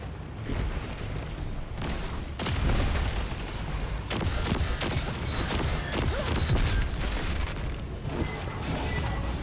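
Hand cannon shots in Destiny 2 PvP, heavy booming reports that repeat irregularly amid dense game effects and mechanical clatter, loud and continuous throughout.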